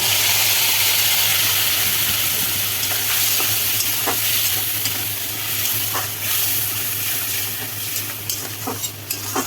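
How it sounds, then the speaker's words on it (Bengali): A chili and tomato spice paste with turmeric fries with potatoes, giving a steady close sizzle and hiss with scattered scraping stirs that grow more frequent toward the end, without talking. "দেখুন মশলাটা কষে এসছে"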